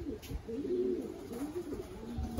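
Racing pigeons on a road-training release in Seguin, Texas, give soft, low cooing calls close by. The calls are steady and repeated over faint background noise, with no talk.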